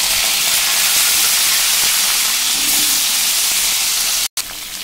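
Pointed gourd pieces dropped into hot oil in a wok give a loud, dense sizzling hiss that holds steady, then cuts out for a moment near the end before resuming.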